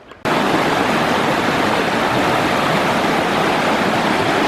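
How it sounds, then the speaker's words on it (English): A small mountain stream flows across a trail at about 7,500 feet, a loud, steady, broadband rush of running water that begins abruptly after a brief quiet moment. "we've run into another normal small stream that's cutting across the trail"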